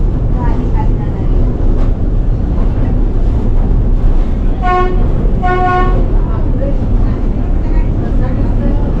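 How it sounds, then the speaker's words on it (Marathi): A funicular car's loud horn sounds twice in long tonal blasts, the second longer, over a constant rumbling engine and background noise. "हॉर्न पण वाजवते."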